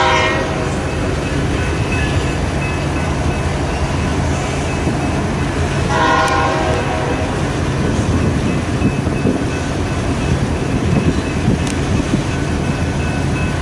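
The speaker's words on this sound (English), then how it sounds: "First train we got today here in Fremont." A freight train with unplacarded tank cars rolls past in Fremont, Nebraska, a steady broadband rumble of wheels on rail filling the whole stretch, with a brief horn-like tonal burst partway through.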